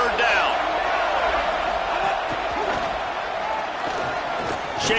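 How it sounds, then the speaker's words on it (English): Football stadium crowd roaring steadily during a third-down defensive stand, a loud, sustained broadband wash of cheering and shouting that holds at high level throughout, with scattered whoops and bangs within the din. "Decibels rising as the crowd gets behind this defense on 3rd down."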